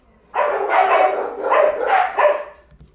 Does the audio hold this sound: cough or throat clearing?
no